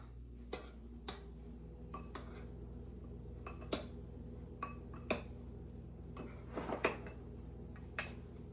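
Brown rice pudding with melting butter is stirred in a pot on the stovetop; a quiet room carries sparse, sharp clinks of a utensil against the pot at irregular intervals.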